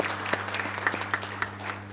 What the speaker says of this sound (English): you can join me in clapping for all the work that you people are doing